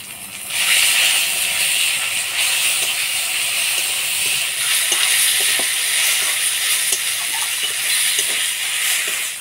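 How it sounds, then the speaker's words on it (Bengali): Shrimp are stirred with ground spice paste of garlic and chili in a hot pan, giving a loud continuous hissing sizzle with faint scraping stirs throughout, close up and without voices. "বাটা মশলা দিয়ে চিংড়ি মাছটা নাড়াচাড়া করে নিলাম।"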